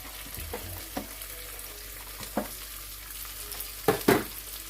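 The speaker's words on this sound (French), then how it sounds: "dans mon huile, je vais mettre mon poireau" Sliced leek drops into hot oil for Cameroonian sautéed gizzards, setting off a steady sizzle broken by several sharp stirring scrapes and crackling bursts, loudest near the end.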